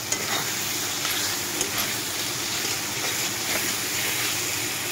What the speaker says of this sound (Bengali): তো অল্প একটু করে আমি জল দিয়ে দিব।